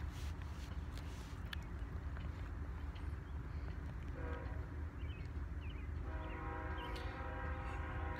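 A BNSF freight train rumbles steadily past leaving Springfield, Missouri, its low heavy roll continuous throughout, while the locomotive horn sounds faintly at a distance in two stretches over the noise.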